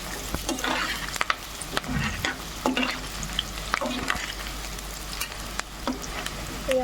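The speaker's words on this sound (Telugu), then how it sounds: "ఈ ఆనియన్స్ బాగా వేగాలి." Onions frying with a curry leaf sprig in a pan for a chicken fry, sizzling steadily close up while a spoon scrapes and stirs in repeated strokes, with no talking.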